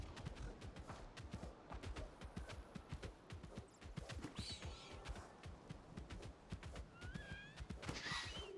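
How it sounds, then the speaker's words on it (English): A video-game horse with a beastly voice neighs and whinnies several times over the steady clatter of its hooves, close and moderately loud, with no talking. "This horse sounds like a beast."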